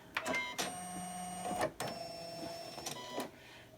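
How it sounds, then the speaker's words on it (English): A sewing machine is rethreaded for ruler-guided quilting, with a close series of short mechanical clicks, clunks and brief whirring bursts as its parts are moved by hand. "So I'm just rethreading."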